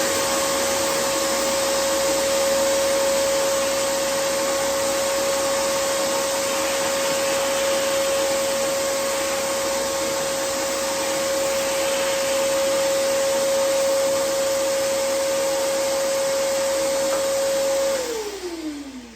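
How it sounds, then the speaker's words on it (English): A vacuum cleaner runs steadily and loudly while cleaning the bottom of a wooden soundboard base in a workshop, a constant whine that holds for most of the stretch before the motor is switched off and winds down. "Clean the bottom of the base. Quick vacuum here."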